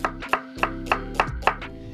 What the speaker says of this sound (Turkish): Yarım soğanı doğrayıram gözəl bir şəkildə